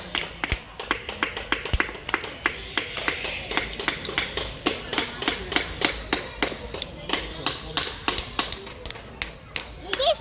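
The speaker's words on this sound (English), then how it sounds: "my mom is helping me to hammer it" Rapid, repeated sharp taps and knocks from hammering a homemade pencil case, fairly close, with an uneven rhythm, alongside background chatter and a light rustle.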